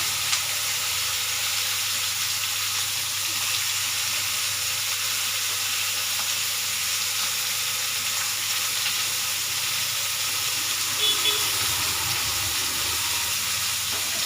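Pirandai (adamant creeper) with tamarind sautéing in a pan for chutney, giving a steady, even sizzling hiss throughout with faint stirring at moments and no talk.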